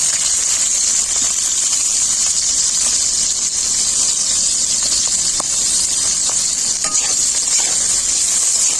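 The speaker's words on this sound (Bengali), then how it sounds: "বিন আর সজনে ডাঁটা একসাথে ভেজে নেব।" Green beans and drumsticks frying in hot oil for a mixed vegetable dish, a loud steady sizzle with occasional stirring clicks running throughout, close by with no talk.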